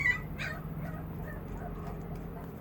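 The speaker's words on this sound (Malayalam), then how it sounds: "ഒരു പട്ടിക്കുഞ്ഞാണ്, അവൻ്റെ ഒച്ചയാണ് കേട്ടത്." A puppy gives a few faint, brief whimpers near the start over a steady low household hum, with no talking.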